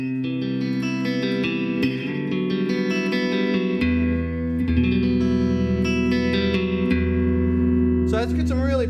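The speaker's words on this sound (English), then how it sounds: "I'll just play through a couple of the settings real quick using a Fender mid-90s. This is a custom shop Stratocaster. I'm on the clean channel right now." A mid-1990s Fender Custom Shop Stratocaster plays clean-channel tones through a Line 6 Spider amp, with sustained chords and picked notes ringing with reverb and a brief higher run at the end.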